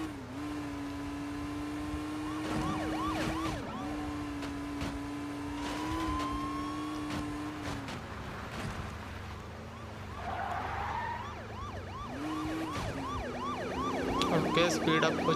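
Police car sirens wail in the Car Simulator 2 video game as cop cars pursue the player's car, with rising and falling siren tones over a steady engine drone and brief skid-like bursts throughout.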